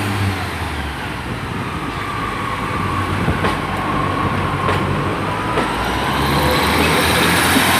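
Trains 143617 and 153305 depart Exeter St Davids station on the Paignton to Exmouth service, with a loud, steady diesel engine rumble and rail noise building slowly, plus a few faint squeals and clicks, heard up close.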